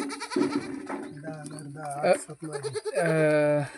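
Goat kids bleating repeatedly on a farm, several wavering cries close by, overlapping one another with brief pauses between calls.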